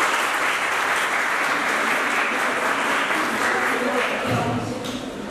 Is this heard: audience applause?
yes